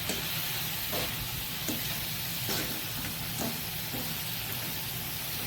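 Eggs fry in a hot pan for a Mangalorean-style egg fry, giving a loud, steady sizzle broken by a few sharp bursts as they are turned or added, with no talking.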